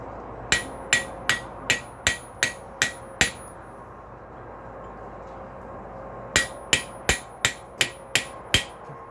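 A hammer strikes a chisel carving into a steel rail spike, two runs of about eight sharp ringing metallic taps in an even rhythm separated by a pause, close and clear with no talking.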